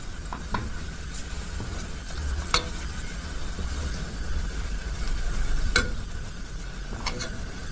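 Fish sayadeya rice frying in a pan with steady sizzling throughout, broken by occasional sharp scrapes and clicks of stirring; no voices.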